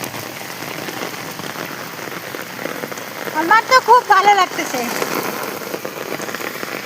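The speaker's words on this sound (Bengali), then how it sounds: "বৃষ্টির মধ্যে কত সুন্দর লাগতেছে, বুঝতে পারছো?" Steady rain pouring on outdoor surfaces, a dense close hiss of drops throughout, with a person speaking briefly over it midway.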